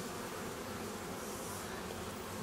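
Honeybees drone in a dense, steady buzz close by at an open, strong hive being inspected, a continuous swarm hum with no voices over it.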